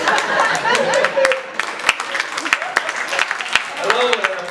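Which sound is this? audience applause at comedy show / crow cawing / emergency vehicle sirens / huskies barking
audience applause at comedy show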